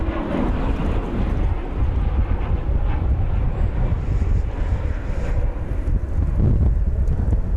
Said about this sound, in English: This American plane coming in from San Jose, California. Flight 2046, 737-800.